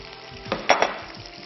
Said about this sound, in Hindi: लास्ट बैच ऑफ चिकन जो है उसको भी हम फ्राई कर देते हैं